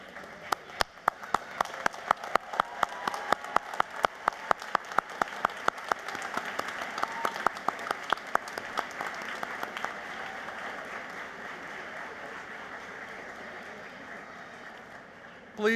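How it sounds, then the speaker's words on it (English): A college commencement crowd at Merrimack College applauds: sharp distinct claps ring out at first, then swell into a steady, even wash of many hands that holds on and fades slightly toward the end. "Students, please rise and join me in applauding all those who have made this day possible"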